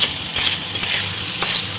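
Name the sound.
khesari dal frying in a pan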